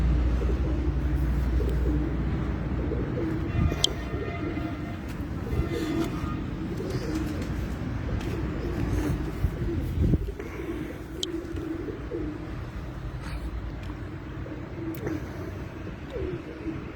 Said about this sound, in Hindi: इमरान भाई जो ऊपर कबूतर है वो कितने बजे तक